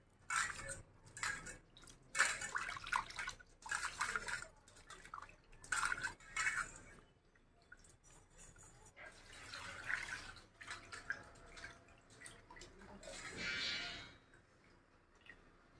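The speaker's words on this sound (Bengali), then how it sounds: "মাছটা আমি এখন ভালো করে ধুয়ে নেব পরিষ্কার করে" Lote fish being washed clean by hand under running water, with bursts of splashing and dripping that start and stop, close by and moderately loud, alternating with quieter pauses.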